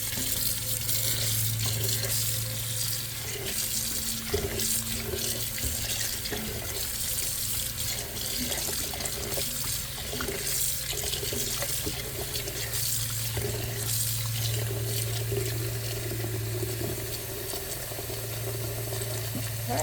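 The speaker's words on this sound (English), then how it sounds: "we're going to wash the blackberries in cold water, give them a good rinse" Cold tap water runs steadily into a kitchen sink as blackberries are rinsed, a continuous close splashing rush with faint clatter and movement mixed in throughout, with no voices.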